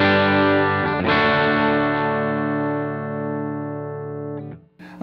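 Electric guitar fitted with Mojotone vintage taper 500k CTS pots, a sustained distorted chord ringing out loud and alone, restruck once early on, then decaying and cut off near the end.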